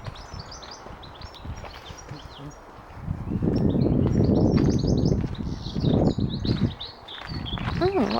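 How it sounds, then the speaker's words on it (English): Birds chirp and tweet outdoors beside a golf course, light calls scattered over the whole stretch, partly under louder conversation and rustling movement in the middle and toward the end. "listen to the birds"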